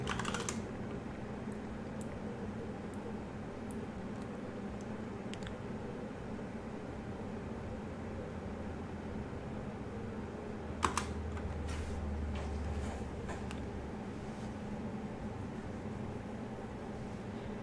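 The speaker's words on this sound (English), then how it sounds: "what do we type in to look at the bottle of wine?" Keyboard typing in the text-adventure game Stories Untold, a soft, steady patter of keys over a constant low hum, with a brief louder clack partway through.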